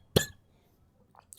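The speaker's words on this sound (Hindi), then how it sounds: "आवाज़ बीच में से खांसी आ रही है" A single sharp cough from a man who is unwell, close to the mic during a maths lesson, followed by quieter faint sounds.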